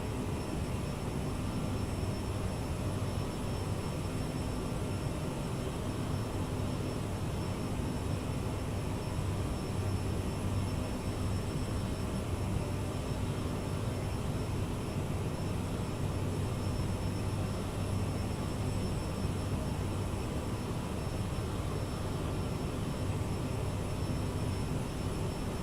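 CRJ regional jet engines on takeoff in a flight simulator, a steady loud whining roar with a constant high tone that holds unbroken for the whole stretch, no talking.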